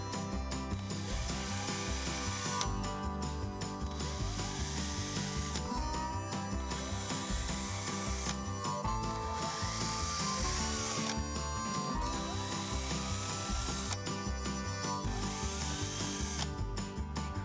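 A drill boring 1/16th holes for a garden irrigation system, a continuous loud mechanical whir with ratcheting, pulsing texture and shifting pitch, no talking.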